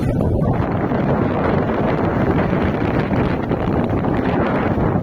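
Strong 22-knot wind roars continuously across the microphone aboard a sailboat arriving at Astypalea island in Greece, a dense, loud, unbroken rush with no talk.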